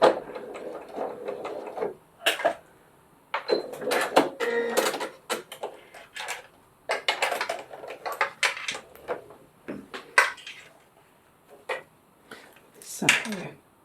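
A sewing machine stitches around a fabric glasses case in short, loud mechanical bursts separated by brief pauses, with faint handling sounds between runs.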